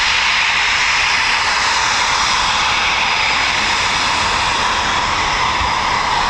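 Eurofighter Typhoon FGR4 fighter jet departing RAF Coningsby, a loud, steady, close roar of jet engine thrust with a broad hiss that holds unbroken throughout, no voices.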